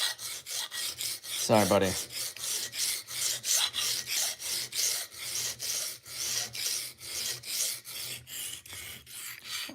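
A knife sharpened freehand on a diamond stone: regular back-and-forth rasping strokes, about three per second, close and steady, with someone speaking briefly early on.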